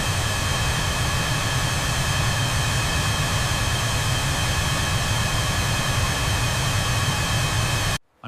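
A large aircraft engine roars during taxi in a steady, loud, broadband drone with a constant whine, holding unchanged until it cuts off abruptly at the end, no voices.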